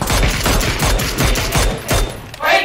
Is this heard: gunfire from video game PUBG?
yes